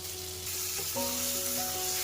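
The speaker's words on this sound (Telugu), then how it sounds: "ఇలా పన్నీర్ ముక్కలు మంచిగా ఫ్రై అవ్వాలి" Paneer pieces frying in a pan for a meal maker curry, a steady close-up hiss of sizzling oil with a faint tonal ring running underneath.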